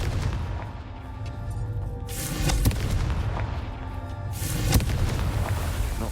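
Fiery Confringo spell blasts in the video game Hogwarts Legacy, a couple of booming explosions with rumbling crackle over dense game ambience, no talk.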